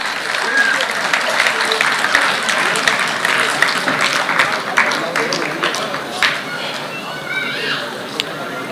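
A crowd at a film first-look launch event claps in sustained, dense applause, a busy wash of many hands with a few sharper claps standing out, and some voices mixed in.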